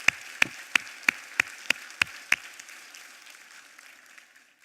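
A church congregation claps together in steady unison, about eight sharp, evenly spaced claps that stop abruptly and leave a fading reverberant tail, with no talking.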